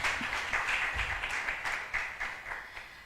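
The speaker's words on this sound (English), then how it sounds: "Please let's give applause as he comes." A health symposium audience applauds as a panelist arrives, soft and diffuse, fading gradually over a few seconds.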